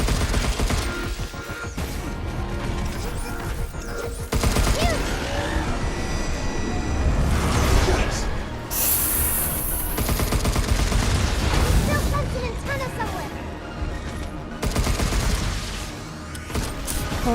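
Heavy riot buster gunfire in the Pragmata video game, loud sustained bursts of shots with booming blasts and mechanical clatter, continuing with brief pauses throughout.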